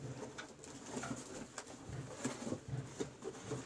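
Soft, low pigeon coos repeat in a loose rhythm at close range over a faint rustling background, with no talking.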